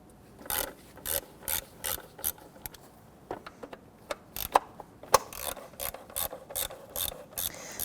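A ratchet wrench clicks in repeated bursts of rapid pawl ticks, loosening the 10mm bolts around the upper timing cover of a 1992-1996 Toyota Camry 2.2L four-cylinder; close and crisp, with pauses between strokes and no talking.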